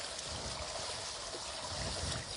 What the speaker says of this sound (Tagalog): Grabe ang agos.